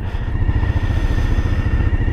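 A 2023 Suzuki V-Strom 1050 motorcycle idles nearby with a loud, steady, throbbing rumble and a faint mechanical whine, and nothing else is heard.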